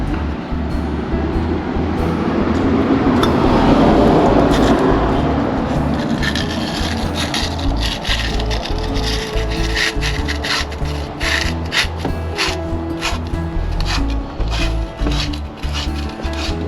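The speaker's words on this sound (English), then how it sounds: "Until you clean that socket out a little bit more" Hard rasping scrape of a tool cleaning out a corroded light bulb socket on a 1955 Chevy 210 wagon, loud and close, a sustained grind early then quicker irregular strokes and clicks.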